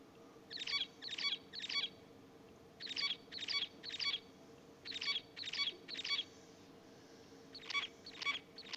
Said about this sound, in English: I'm playing these different songs to the bird